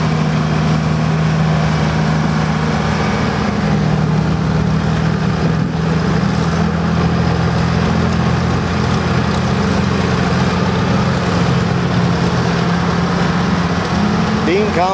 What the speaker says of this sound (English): Next up is a young lady driving the log skidder.